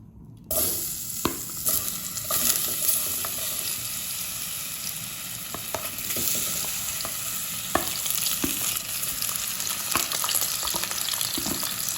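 Chopped nenthrapazham banana sautéing in ghee in a pan, a steady close sizzle with occasional stirring scrapes, running continuously after a brief quiet start.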